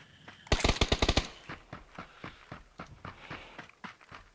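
Gunfire in a shooter video game opens with a fast close burst of about eight sharp shots, then continues as scattered, fainter single shots and clicks.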